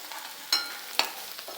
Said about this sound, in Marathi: आता हे सगळं आपण चांगलं परतून घेऊया.